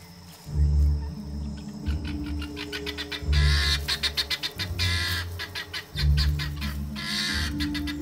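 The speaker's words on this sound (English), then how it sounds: "The guinea fowl huddle together, a squawking, formidable mob." A flock of guinea fowl squawks in loud, harsh, rapidly repeated calls, pulsing bursts from several birds close by, over a low rumbling background.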